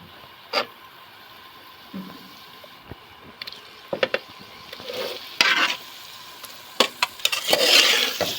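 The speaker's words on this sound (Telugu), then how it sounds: "ఈ ముక్కలు వేసిన తర్వాత ఉప్పు కారం ఈ ముక్కలు పట్టేలాగా ఇలా మంచిగా కలుపుకోవాలి" Pieces of mutton blood fry in oil in a pan while a spoon stirs them, giving a soft sizzle broken by sharp scraping and clinking strokes that grow busier toward the end.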